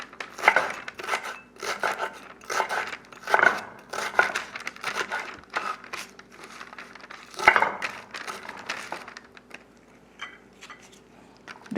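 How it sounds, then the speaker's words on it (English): Onion being sliced on a board for a pho salad, a run of soft crisp knife cuts and scraping strokes at close range, with a few louder chops near the start and middle and quieter work toward the end. "Cut some onion."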